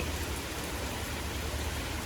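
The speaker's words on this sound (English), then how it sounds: "And now it's just raining heavily." Heavy rain pours down in a dense, steady hiss, loud and unbroken throughout.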